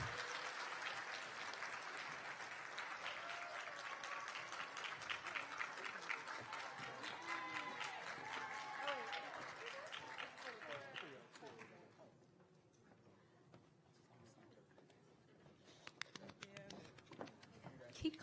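Audience applause at a student affairs leadership awards ceremony, a dense wash of clapping mixed with crowd chatter and voices that fades to a thinner, scattered patter in the second half.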